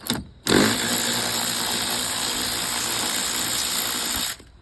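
A cheap cordless electric ratchet from Amazon spins steadily on its own for about four seconds, a loud continuous motor whir with a sharp start and stop, used while installing a soft-close door lock actuator on a 2013-2018 BMW.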